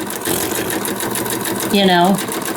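A sewing machine runs steadily, stitching a fabric journal cover made from scraps, its fast mechanical whir continuous and close, with a louder, higher-pitched burst near the end.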